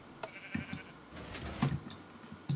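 Sheep in Minecraft bleat in short, repeated calls, several brief baas spaced across a couple of seconds amid faint game background sounds, moderately quiet and alone without talk.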